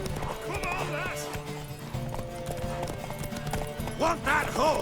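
Horse racing at full gallop in the Witcher 3 video game, rapid clip-clop hoofbeats with whinnies and neighs, loud and close, under the voices of characters talking.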